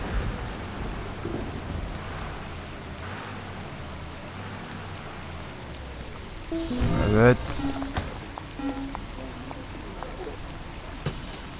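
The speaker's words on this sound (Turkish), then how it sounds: "Evet bu sefer yağmur var. Yağmurlu bir hava." Steady rain patters throughout on a surface while driving a city bus, with a louder burst of noise and a brief voice partway through.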